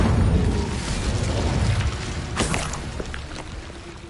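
A booming fiery blast from an Incendio spell in Hogwarts Legacy erupts loud and full at first, then rolls off into a crackling, fading rumble with a brief burst partway through.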